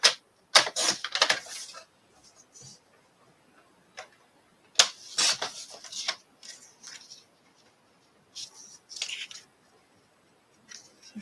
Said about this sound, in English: Let me just trim that down.